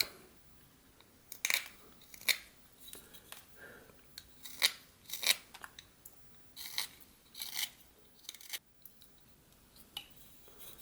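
A knife shaves butternut wood while carving a wolf head, making a series of short, crisp slicing scrapes at an irregular pace, close and fairly quiet, with hushed pauses between cuts.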